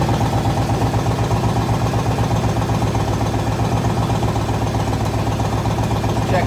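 A Yamaha Raider motorcycle engine idles steadily and loudly after starting, its even, pulsing throb holding constant throughout.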